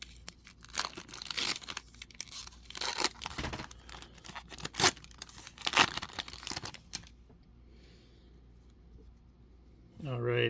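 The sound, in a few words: tearing open trading card packs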